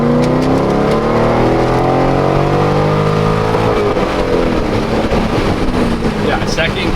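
A C6 Corvette with a six-speed manual accelerates hard in second gear, its engine note climbing loudly and steadily from inside the car, then settling into a rougher roar as it holds speed.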